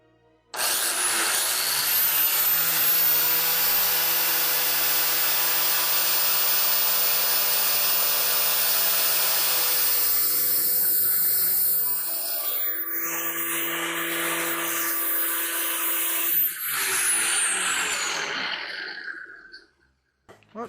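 A power grinder works on a part of a 350 Chevy engine's rotating assembly to open up clearance, a loud steady whine that runs for about twelve seconds, changes pitch as it bites, then winds down and stops.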